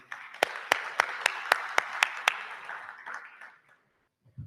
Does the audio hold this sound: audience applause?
yes